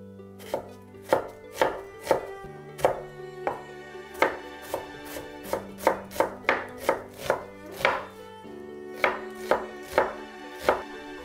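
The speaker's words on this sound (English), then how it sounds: "Finely cut the onion." A knife finely chopping onion on a cutting board makes a steady run of crisp, evenly spaced thuds, about one per half second, close and clear with no talking.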